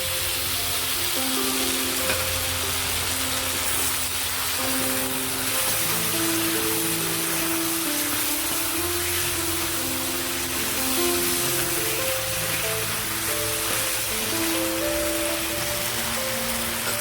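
Cornflour slurry, half a spoon of cornflour stirred into half a cup of water, poured into a hot pan of dry chilli chicken, with a steady hiss and sizzle that runs unbroken and fairly loud throughout.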